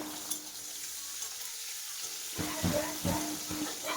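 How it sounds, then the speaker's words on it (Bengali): Shrimp frying in a wok, a soft continuous hiss of sizzling oil that grows louder with a few stirring scrapes and knocks toward the end, quiet and close with no voices. "চিংড়ি মাছটাকে ভালো করে আমি এপিট এপিট করে লাল লাল করে ভেজে নিচ্ছি কড়াইতে"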